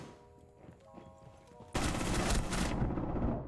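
Gunfire from Alibi's weapon in Rainbow Six Siege starts suddenly and loudly partway through, a sustained burst of rapid shots that keeps going to the end after a quieter stretch of game sounds.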